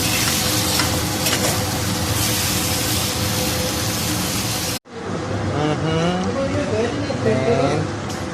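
Bitter gourd (ampalaya) and eggplant sizzle loudly while being stirred in a pan for Ilocano pakbet. The dense frying hiss breaks off abruptly midway and resumes, with a person talking over the continuing sizzle.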